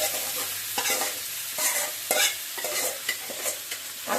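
Vegetables frying with marinated mutton in a pan for mutton kosha, a continuous close sizzle broken by repeated scraping stirs of a spatula at an uneven rhythm.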